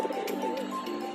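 Pigeons cooing inside a loft, a few soft, close coos in quick succession over a quiet background.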